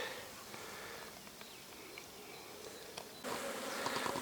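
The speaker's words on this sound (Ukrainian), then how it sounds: "вийшло сонечко, перегріло і бджола запрацювала" Honey bees working at an open hive on a sunny day, a steady continuous buzz throughout that swells louder near the end, with no talking.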